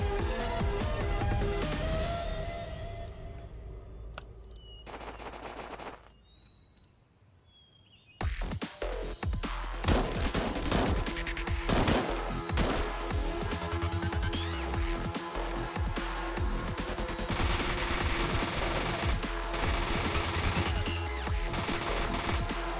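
Submachine-gun fire from 9mm weapons in the Xpiratez video game, dense rapid bursts of shots that pause briefly before resuming in a long, loud, continuous barrage.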